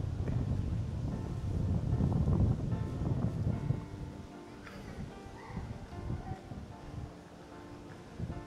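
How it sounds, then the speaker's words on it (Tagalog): Gusty wind blows outdoors in Frankfurt near the Kaiser Dome cathedral, buffeting the microphone with a heavy low rumble for the first few seconds, then easing to a softer rush with faint voices in the background. "Mahangin sa labas."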